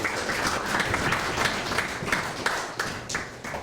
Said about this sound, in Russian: Еще раз аплодисменты в адрес нашего уважаемого гостя